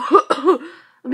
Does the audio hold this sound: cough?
yes